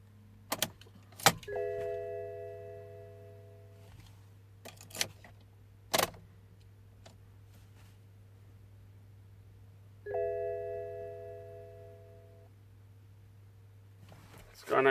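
BMW ignition cycled on, setting off two bursts of layered electronic dash chimes a few seconds apart, with sharp clicks and clunks in between over a steady low hum.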